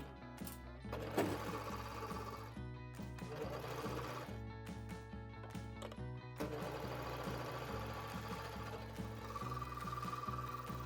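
An overlocker serger stitches and trims fabric in a steady, rapid mechanical chatter that runs continuously with a few brief pauses and speed changes, close and fairly loud, with no talking.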